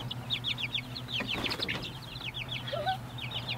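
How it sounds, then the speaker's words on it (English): Several chickens cluck and chatter in quick repeated calls, fairly close, with a steady low hum underneath and a brief flutter partway through. "You gonna keep these chickens warm, Bernice?"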